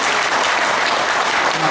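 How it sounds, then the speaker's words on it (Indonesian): An audience at a spoken gathering breaks into a dense, loud burst of applause, many hands clapping together at once with no voices over it. "Tepuk tangan."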